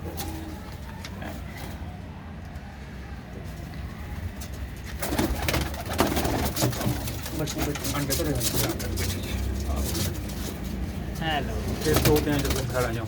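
Domestic pigeons, including a red Cheena pair, coo and rustle nearby at a fancier's loft, the murmuring growing fuller and louder halfway through, with someone talking over them.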